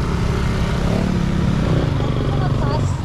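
Motorcycle engine passing near Dupax, Nueva Vizcaya, a continuous rough rumble heard alongside people talking.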